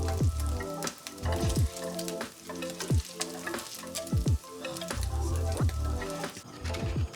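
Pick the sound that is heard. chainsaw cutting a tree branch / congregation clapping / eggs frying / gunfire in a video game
eggs frying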